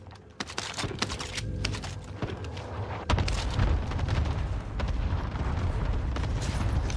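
Enemy cluster strike in Warzone: a rapid series of loud booming explosions and crackling impacts, intensifying partway through and rumbling on steadily afterward.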